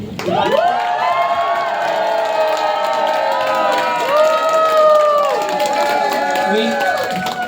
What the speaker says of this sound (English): I want you guys to take a minute and cheer as loud as you've cheered all day for Keith, Nadia, and their entire team.